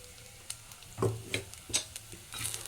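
Spice powder of roasted pepper, cumin, horse gram and coriander tipped into curry leaves and dried chillies frying in a pan, giving a few soft stirring scrapes and a light sizzle, close and with no talk.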